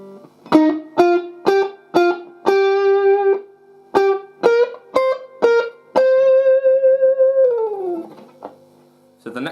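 Electric guitar playing a section of a riff, with a lightly overdriven tone: a run of short plucked notes, then a held note sliding down at the end, close and clear with no talking.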